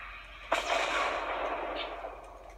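A rocket launcher fires in the Fortnite video game, a single sharp blast followed by a sustained loud whooshing roar lasting about two seconds, with no talk.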